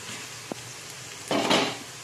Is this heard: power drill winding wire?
no